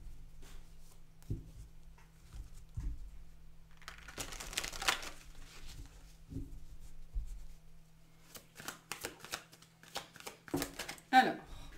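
Tarot cards are shuffled in brief riffling bursts, soft and close, with quiet gaps and faint handling noises between them.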